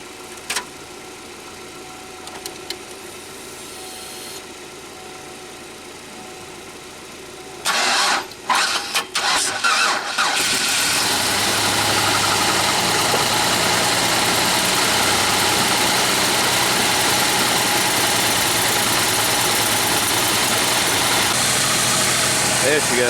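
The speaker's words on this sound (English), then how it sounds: "Let's go ahead and get it hooked up and do a cold start on the Tech." A Pontiac Aztek engine, the first one ever produced, cold-starts after several seconds of quiet shop sounds and a few cranking bursts, then settles into a loud steady run that continues to the end.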